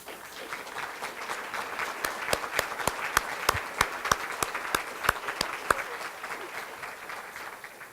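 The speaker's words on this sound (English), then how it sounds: "would you please stand so we can recognize you with applause?" An audience at a scholarship luncheon applauds Delaware Tech graduates, a soft bed of clapping joined by a run of loud, sharp, evenly spaced individual claps close by, fading out toward the end.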